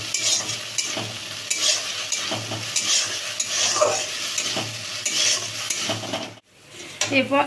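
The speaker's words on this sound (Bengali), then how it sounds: "দিয়ে নাড়তে থাকবো।" Food sizzling in a cooking pan after garlic and green chili paste go in, stirred continuously with scraping, rubbing utensil strokes over a steady frying hiss, close up, with a brief pause near the end.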